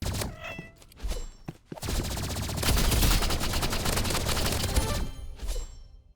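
Energy pistols fire in a competitive shooter video game as a loud, dense burst of rapid shots lasting about three seconds, with scattered game effects and sharp clicks before and after.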